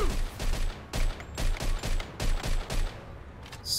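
Gunfire in the Mafia 2 video game, rapid bursts of shots in a regular rhythm of roughly eight loud volleys with short gaps between them.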